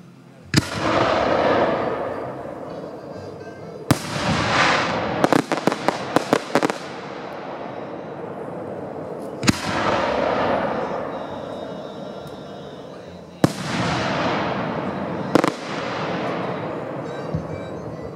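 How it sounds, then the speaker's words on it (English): Assorted Vulcan 6-inch premium aerial shells fired one at a time, each bursting with a loud boom followed by long crackling and rumbling tails, with a rapid string of sharp reports midway and several more big blasts, heard outdoors with no talking. "going to shoot some assorted 6-inch shells here from Vulcan"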